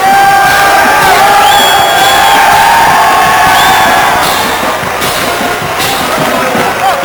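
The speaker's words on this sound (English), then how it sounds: "You notice Jackson is taunting the crowd, but he's got his offensive line between him and the crowd" A large stadium crowd at a Missouri Tigers versus Ohio State college football game in Columbia, Missouri, roars and cheers steadily throughout, loud and close, with scattered shouts and whistles that ease slightly toward the end.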